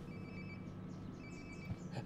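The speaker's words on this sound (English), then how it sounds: "Sounds like my phone is definitely nearby." A cell phone rings quietly in Life is Strange: Before the Storm, a faint repeating ring tone in two bursts over soft background ambience, with no talking.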